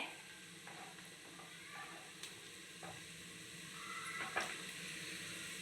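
Small ginger pieces sizzle steadily in a hot pan, a soft continuous frying hiss with a few faint clinks and stirring scrapes.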